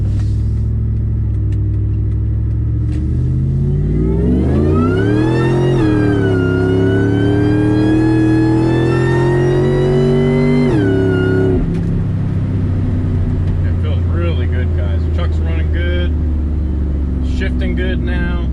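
A Ford F-150 SVT Lightning pickup truck accelerates hard, its engine note climbing steeply, dropping at a gearshift and settling into a lower rumble, loud and close with a persistent road roar underneath.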